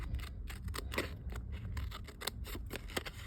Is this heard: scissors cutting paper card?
yes